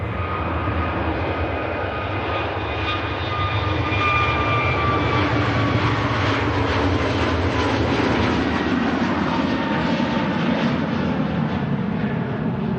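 Airbus A321neo jet airliner departing Manchester Airport for Tenerife, a loud continuous engine roar with whining tones that builds and holds steady throughout, no talk.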